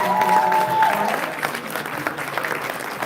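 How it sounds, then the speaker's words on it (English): Audience applause for the Woodland Sky Native American Dance group, dense clapping that starts full and fades slightly, with a brief tonal ring early on and faint crowd murmur beneath. "I'd like to take time to give another round of applause to Michelle Green and the Woodland Sky Native American Dance."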